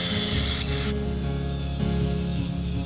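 An angle grinder with a cutoff wheel cuts 1095 high carbon steel to rough out a knife shape, a loud continuous whining, rasping grind with steady tone and slight pitch shifts as pressure changes.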